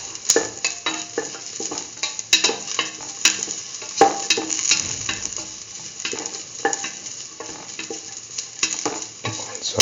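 Curried mustard okra stew is sautéed and stirred in a pan, with a steady bright sizzle under frequent spoon scrapes and light clinks across the whole stretch.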